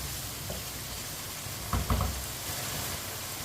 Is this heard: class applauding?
no